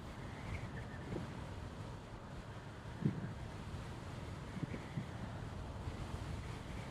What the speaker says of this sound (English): This wind is actually kind of killer right now.